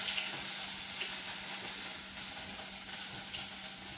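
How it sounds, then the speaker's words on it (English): Onions frying in hot oil for French onion soup, a steady dense sizzle with faint crackles that holds level and fills the whole moment without any voices. "The oil is hot, so should we add our onions?"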